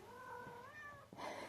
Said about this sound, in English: My cat's in heat.